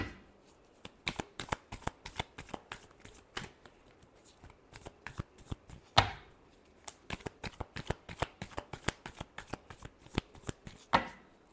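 Tarot cards shuffled by hand in close, crisp bursts of riffling clicks, repeating in uneven rhythm with short pauses between shuffles, quiet and nearby with no talking.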